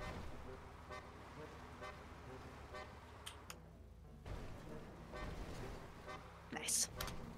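A car horn honks in GTA Online, sounding briefly over a dense, busy bed of game noise and engine sound, with one sharp, louder burst near the end.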